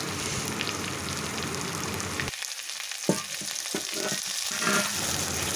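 Garlic paste, chopped tomato and ginger paste sizzle and fry in a pan, a continuous close crackling hiss broken by a few scraping stirs in the middle with no voices.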